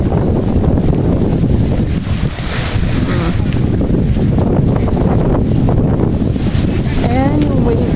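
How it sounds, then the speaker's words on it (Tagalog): Ocean waves on a Boracay beach with high surf: a continuous rush of surf mixed with heavy wind buffeting the microphone, loud and close, while a voice talks over it. "Ayan yung waves sa dulo."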